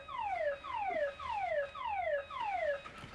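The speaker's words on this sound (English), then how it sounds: "We were working on the electrical system and inadvertently sounded the alarm." A fire alarm sounds repeatedly in a building after being set off by accident during electrical work, giving a loud, steady series of five or six falling electronic whoops, one about every half second, with no talk.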